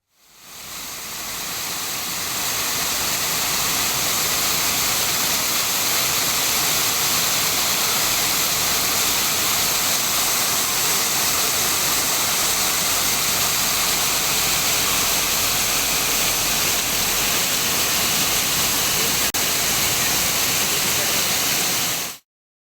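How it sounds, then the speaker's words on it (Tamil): Water gushes loudly and continuously from a burst Cauvery drinking-water pipeline, a dense, steady roar like a waterfall that holds unbroken for over twenty seconds before cutting off. "காவிரி கூட்டு குடிநீர் திட்ட குழாயில் உடைப்பு ஏற்பட்டு லட்சக்கணக்கான லிட்டர் தண்ணீர் வீணாக வெளியேறி வருகிறது"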